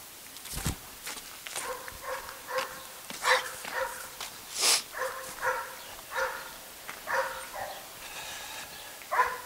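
Dogs arriving in an emergency give a string of short barks and whimpers, spaced roughly a second apart, close and moderately loud with soft movement between them.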